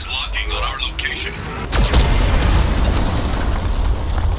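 A Geth cannon blast strikes the ship in Mass Effect 2, a loud booming impact with a sweeping crack that leaves a sustained low rumble, heard over game ambience.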